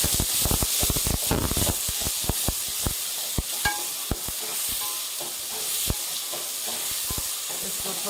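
Onions frying in a pan for bhindi pyaz, an okra and onion dish: a steady close sizzle broken by frequent sharp clicks and scrapes of a spoon stirring against the pan.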